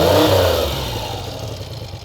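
A cold 1975 Triumph Trident T160 triple with triple Amal carburetors and split exhaust idles close by, loud at first, then settling into a steady, slightly uneven low rumble.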